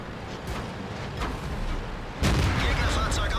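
An E50M tank cannon fires on the move in a tank battle video game: a loud, booming report at the midpoint, set against continuous rumbling engine and battle noise.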